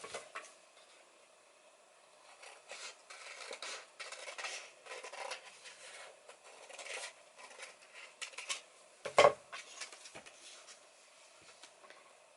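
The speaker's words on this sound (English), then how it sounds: "And then I'm going to cut that one out." Scissors cut out a small paper circle in a series of faint, irregular snips and soft clicks in a quiet room, with no talking.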